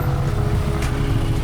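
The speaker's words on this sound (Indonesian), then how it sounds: "ini ada mobil sebentar" A car passing on a road in Bali, between Denpasar and Bedugul, a steady low engine rumble and road noise, near and fairly loud, holding throughout without a clear approach or fade.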